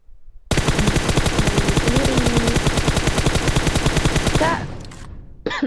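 Sustained rapid automatic gunfire in the mobile battle-royale game PUBG Mobile, a loud continuous burst of evenly spaced shots lasting about four seconds before tapering off, with a couple of faint sounds after.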